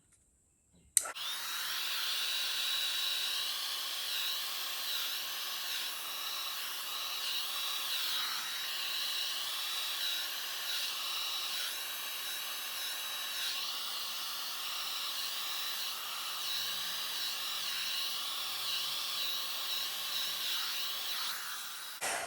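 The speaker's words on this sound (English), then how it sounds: "sometimes I actually use the heat tool to blow out with as well when I'm doing small blooms" A heat tool blows a steady, loud hiss of hot air over small blooms of fluid acrylic paint on a silver base. It runs unbroken for about twenty seconds with no talk.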